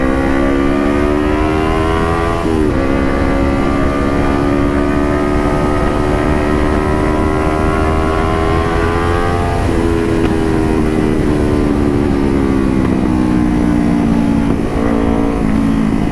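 A 2018 Kawasaki Ninja 250 engine revs loud and close through its exhaust: a steady buzzing drone whose pitch climbs and dips several times. No distinct backfire pops stand out.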